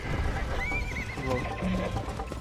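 A horse in the Red Dead Redemption video game lets out a loud, rising whinny over clip-clopping hooves and steady in-game background noise, with a voice briefly heard.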